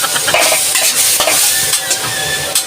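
Chaotay rice is stir-fried in a pan with soy sauce, a loud steady sizzle under constant scraping and stirring of the spatula, close up.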